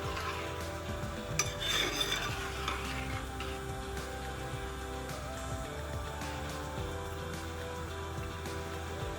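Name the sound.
stirring payasam with coconut milk in a pot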